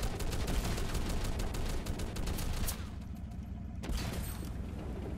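Rapid bursts of gunfire from the Roblox game Base Battle crackle densely for about two and a half seconds, then drop to a quieter background with one more faint shot later.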